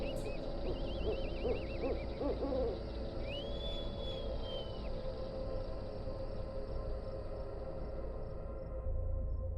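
Owl-like night bird calls as a spooky sound effect, heard in the distance. A few wavering hoots and one long drawn-out cry rise over a low, steady eerie drone.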